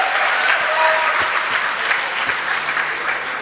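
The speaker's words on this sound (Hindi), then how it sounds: "प्यारे लीडर मिस्टर विकास यादव सर के जोरदार तालियां होनी चाहिए" Loud, steady applause from an audience at a motivational business event, with a few faint whistles and shouts over dense clapping for a leader's introduction.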